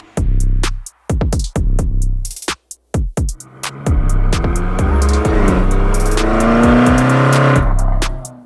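Alpha-N tuned BMW G90 M5 driving in a city center: a series of loud, close engine blips and revs with sharp cutoffs, then a sustained hard acceleration with rising, roaring exhaust.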